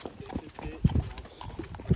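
Horses gallop up and down behind a full hedge line, their hoofbeats thudding in scattered heavy clops at mid distance while someone talks over them.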